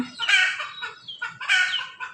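Chickens outdoors at a sunny rural home give two loud bursts of clucking and squawking close by, separated by quieter calls, with no talking.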